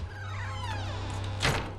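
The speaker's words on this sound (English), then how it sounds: "You can also hear Bill Skarsgård talking as Mrs. Kirsch before opening the door." A door opens in a scene from the horror film IT. A low voice sounds over a steady hum, then a single short thunk lands near the end.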